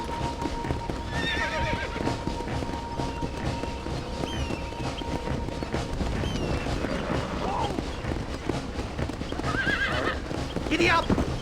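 A horse in the Red Dead Redemption video game whinnies several times over rapid clip-clop hoofbeats at a gallop, with voices talking over the action and a louder neigh near the end.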